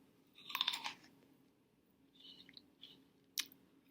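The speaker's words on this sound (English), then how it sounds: "It does make a sound when I bite into it." Crunchy apple being bitten into, a crisp crunch near the start followed by faint chewing and a sharp click later, quiet and close with no voices.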